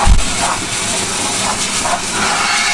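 A close, loud steam train on the West Somerset Railway hauls former Great Western Railway chocolate-and-cream coaches, with a constant hiss of steam and soft rhythmic chuffs rising through it.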